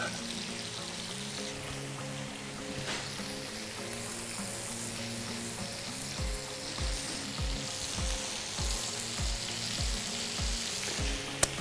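Glazed onion frying in a hot pan, a steady close sizzle with stirring scrapes and a run of rhythmic knocks toward the end, no voices.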